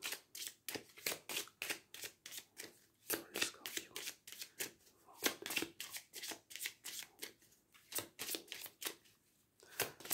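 Playing cards being shuffled and cut for a Scorpio horoscope reading, with a steady run of close, crisp riffling bursts repeating rhythmically throughout and no talk.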